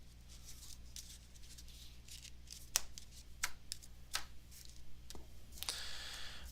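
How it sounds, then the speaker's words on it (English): A deck of Magic cards gets a quick shuffle on a quiet stream: soft papery flicks and sharp snaps at close range, spread irregularly, ending in a brief riffling rush. "I'm going to go ahead and just give it a quick shuffle"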